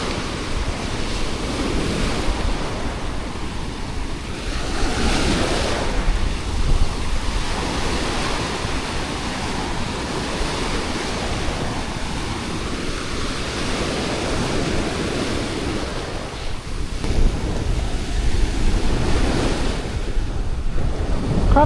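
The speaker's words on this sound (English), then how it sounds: "The sea's getting rough." Rough sea surf breaks on a beach in Cambodia as a storm approaches, loud continuous roaring waves with heavy wind buffeting the microphone and no voices.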